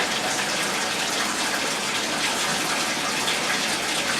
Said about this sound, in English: I'm getting in the shower.